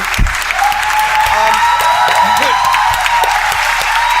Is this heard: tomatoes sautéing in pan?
no